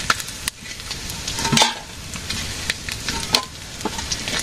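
Fish sizzles steadily in a hot pan in a village kitchen, a close crackling hiss broken by a few scraping stirs and clinks of a utensil, with no talking.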